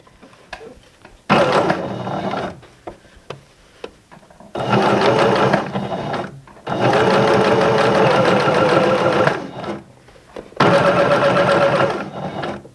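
A home sewing machine sews elastic onto leotard fabric in several loud, steady bursts of rapid stitching, separated by brief quiet stops.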